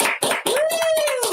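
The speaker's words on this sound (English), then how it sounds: "with some applause, because this is a very good one" Close clapping hands, a quick burst of applause lasting about a second with dense, overlapping claps and a brief tone sliding beneath.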